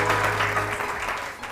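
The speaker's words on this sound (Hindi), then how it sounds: "फरीदा आपा के लिए बहुत सारी तालियां।" A television morning show's studio audience gives a brief burst of applause, moderate clapping that fades quickly over a low hum.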